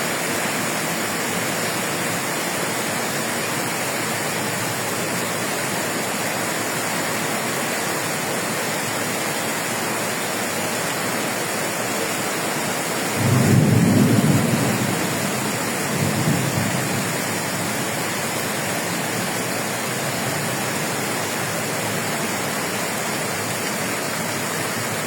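Torrential rain pours down steadily during a flash-flooding storm in Marseille, a dense, unbroken roar that lasts throughout, with a low rumble of thunder rolling in briefly midway and fading again.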